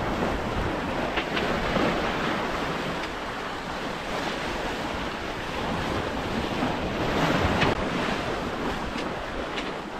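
Waves of a gentle sea swell wash along the Spanish coast under steady wind buffeting the microphone, a continuous broad surf roar with slow swells rising and falling.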